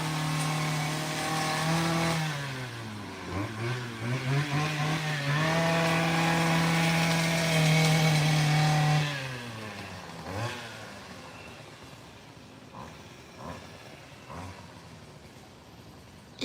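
A lawn mower engine roars loud and close while cutting grass, revving up and holding high, dipping briefly, then surging again before dropping away to a lower, rougher idle with faint knocks.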